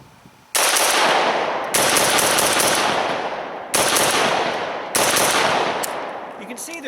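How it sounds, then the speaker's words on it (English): An AK-74 rifle firing 5.45x39 rounds in rapid fire: four long, loud automatic bursts with sharp onsets and short gaps between them, close up and with no talk. "do some fast fire, give you a sense of how controllable this gun is"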